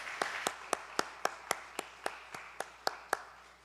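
A church congregation claps in a slow, even rhythm, about a dozen distinct beats ringing out close and clear in a reverberant room, with no talking.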